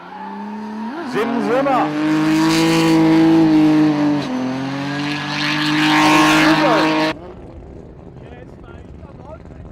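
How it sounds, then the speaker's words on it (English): A race car at a track event drifting in at about 110 mph, its engine roaring loud and close with rising and falling pitch under squealing tires before cutting off abruptly, while a voice talks over it. "We have got a 110 mile an hour drift entry there."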